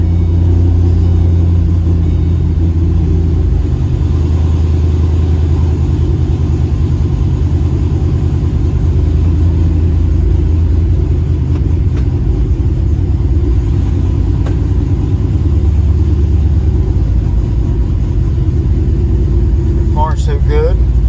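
A 2007 Ford Mustang with a freshly installed engine is on its first test drive. Its deep, loud, steady engine rumble fills the cabin without a break.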